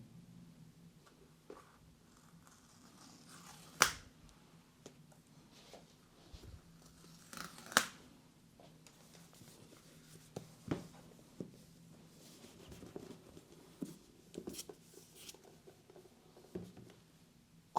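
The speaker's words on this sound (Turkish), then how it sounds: "Hemen şu ok işaretli yerlerden ürünü açmaya başlayalım." Soft rustling, tearing and scattered sharp clicks as Apple Mac Mini M4 box packaging is opened along its pull tabs, quiet and close with irregular pops spaced several seconds apart.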